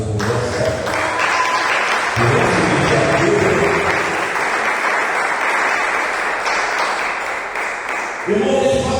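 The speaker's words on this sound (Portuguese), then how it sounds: "Vamos aplaudir a Deus por essa" A church congregation applauds in sustained, dense clapping that fills the room, with a preacher speaking Portuguese over it at the start and end.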